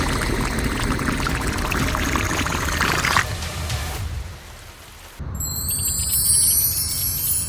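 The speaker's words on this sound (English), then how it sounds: "It's raining heavily again." Heavy rain pours onto a miniature dirt road construction site, a dense steady hiss that thins and softens after about four seconds before an abrupt switch to high, sliding whistle tones.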